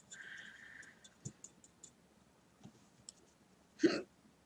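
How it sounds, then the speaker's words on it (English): A single sharp hiccup bursts out near the end, loud and close, after a stretch of faint pencil scratches and small ticks in a quiet room. "Excuse me. Hiccup."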